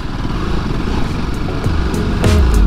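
A BMW G310 GS motorcycle ridden off-road over stones, its single-cylinder engine droning steadily up close and then revving harder near the end, with no speech.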